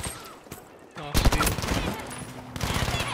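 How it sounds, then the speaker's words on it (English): MG42 machine gun fire in Battlefield V, heard as rapid loud bursts of automatic shots that break off and then start again over about three seconds. "Oh! An MG42 right there."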